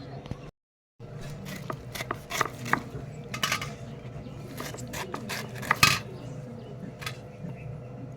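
A knife chops freshly harvested pineapple in a village kitchen, sharp irregular knocks and scrapes against a board, close and clear, with voices talking over the work.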